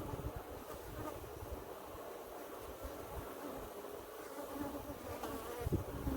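Africanized honey bees swarm around an open hive, giving a dense, continuous buzzing drone close by that holds steady throughout, with a few brief louder surges near the end and no talking.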